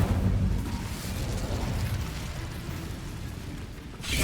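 Incendio fire spell cast in Hogwarts Legacy, heard as a sustained roaring, explosive whoosh that holds steady and loud for several seconds, then swells again at the end.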